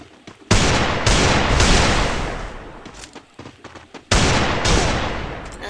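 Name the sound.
gunshots in a shooter video game, headshot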